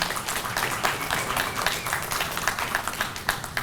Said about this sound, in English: Let's give our panelists a round of applause for their participation.